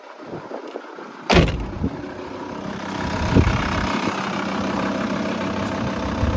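A Volkswagen T4 with a 2.5 ACV diesel engine idles steadily and evenly, a low continuous rumble, with a sharp clunk like a door near the start and a smaller knock later.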